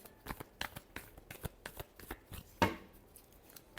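A deck of tarot cards is shuffled by hand, quick rhythmic riffling pats close by, ending in one sharper snap of cards, quiet and without speech.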